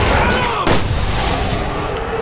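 Gunfire in the Resident Evil 6 game, a sharp shot cracking out near the start of a dense, loud stretch of game noise and ongoing rattle.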